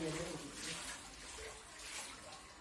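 Water pouring and splashing outdoors during a rowdy village Holi celebration, a broad hissing wash that swells and ebbs over a couple of seconds.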